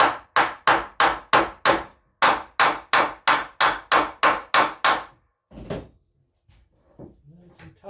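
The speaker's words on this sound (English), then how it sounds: "Now I'll get my hammer and I will get these better lined up." A hammer taps clamped body halves into alignment in steady, evenly spaced taps, a run of five then seven, followed by softer handling noises.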